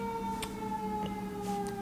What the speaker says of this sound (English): I don't know if y'all can hear the sirens. It's like something going on outside.